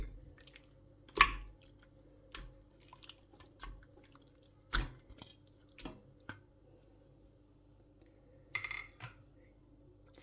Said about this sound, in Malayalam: അതിലോട്ട് ഞാൻ കഴുകി വൃത്തിയാക്കി വെള്ളം തോരാൻ വെച്ചിരുന്ന ചിക്കൻ ഇടുകയാണ്.